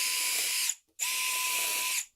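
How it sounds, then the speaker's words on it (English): Exterior-grade screws are driven into a wooden cleat on a DIY outdoor serving cart. A power driver whirs in two steady, close bursts separated by a brief pause. "secure the cleat with screws"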